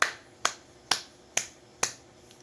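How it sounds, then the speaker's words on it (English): A classroom of students gives five unison claps in praise of a group, five sharp, evenly spaced cracks close by, each fading quickly into a quiet room. "let us give them 5 claps"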